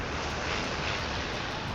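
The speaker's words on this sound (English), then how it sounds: "It's very windy." Strong wind roars across a snowy winter dinosaur park in Jurassic World Evolution 3, a dense, steady rushing noise that stays loud and unbroken throughout.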